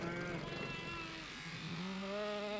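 Sheep bleating on a farm in summer, several wavering calls rising over one another at close range with steady background noise and no talk.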